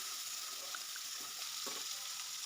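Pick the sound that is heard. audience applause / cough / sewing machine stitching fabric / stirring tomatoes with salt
stirring tomatoes with salt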